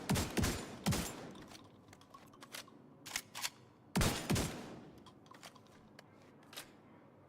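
Bursts of gunfire from a weapon in The Division 2, two sharp volleys near the start and another around four seconds, with scattered single shots and lighter clicks between, loud and close with no talking.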